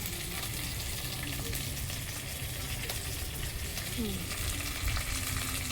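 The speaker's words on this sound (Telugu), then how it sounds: "ముందుగా ఈ ఫ్రై చేసుకోవాలి" Sesame flour fried in a pan with dried prawns, a loud, dense, continuous sizzle and crackle with occasional stirring scrapes, heard close with no clear talk over it.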